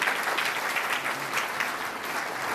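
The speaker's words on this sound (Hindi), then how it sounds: "तालियां बजती रहनी चाहिए।" An audience at a Bharia tribal community meeting applauds in a steady, dense wash of clapping that holds at even loudness throughout.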